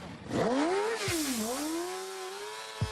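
A motorcycle engine revs on a test ride, one loud sweeping rise and fall of pitch, close and steady, with no talk.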